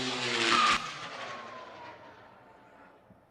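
A model rocket motor ignites at a Central Texas launch event, a loud roaring burst that cuts off sharply after under a second, then a fading distant rumble trailing away as the rocket climbs.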